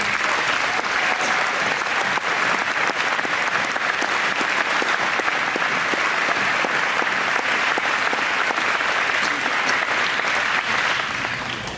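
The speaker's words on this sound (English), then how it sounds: "Please join me once again in a round of grateful applause for their devoted efforts on behalf of our students and children." Sustained, dense applause from parents and guests at a school graduation ceremony marking 50 years of CFS, loud and even throughout before easing slightly at the very end.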